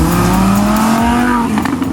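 Lamborghini Huracan V10 in sport mode revving hard, a loud rising engine note climbing steadily then easing off, close and continuous with no talk.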